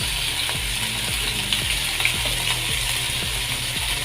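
Taro stems frying in a pan with light soy sauce just added, a loud continuous close sizzle with repeated rhythmic scraping strokes of a spatula stirring throughout.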